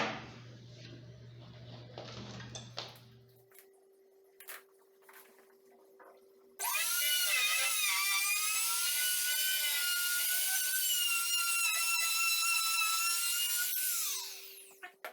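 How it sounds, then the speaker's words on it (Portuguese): A wood router cuts a rebate into a wooden door for hinge installation, first with faint taps and handling noises, then a loud, steady high-pitched whine that runs for several seconds before spinning down. "E agora a gente vai fazer o rebaixo na madeira."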